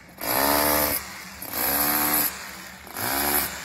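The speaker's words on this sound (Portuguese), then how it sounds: "Pegar o seu martelete e vibrar a sua caixa aí" A rotary hammer vibrates a concrete formwork box on a building site in three loud, close bursts of steady buzzing hammering, each about a second long, separated by short pauses.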